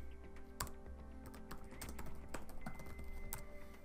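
A search query is typed on a computer keyboard, a quick, close run of soft key clicks with no one speaking.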